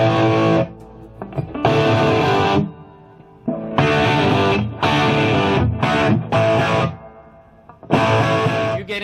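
Electric guitar, a Strat through a 100-watt hand-wired Marshall Plexi with an Iron Man attenuator, playing crunchy rock chords in bursts separated by short silences, loud and close.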